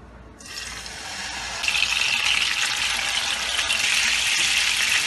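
Galawati kababs shallow fry in a little oil, a hiss that starts quietly and swells into a louder, steady sizzle, close up with no talking.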